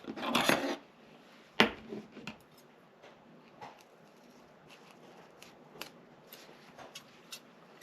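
Scissors snipping through zipper tape: a couple of sharp cutting bursts at the start, then sparse soft clicks and handling noises in a quiet room, no talking.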